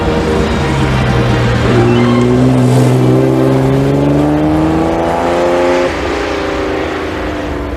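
An Aston Martin engine revs up through rising gears, its exhaust note climbing in pitch with a strong harmonic growl, loud and close, then easing off as the revs drop near the end.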